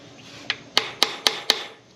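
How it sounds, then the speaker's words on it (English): Five sharp metallic taps from a brass hammer knocking out engine pistons in a steady rhythm, close by, each ringing briefly over a faint background hiss. "I usually use a brass hammer for all this type stuff"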